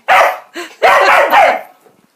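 A dog barks loudly and close by, three sharp barks in quick succession followed by a short trailing whine.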